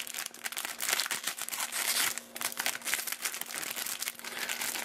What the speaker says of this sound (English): With the cellophane that never wants to quite open for me, right?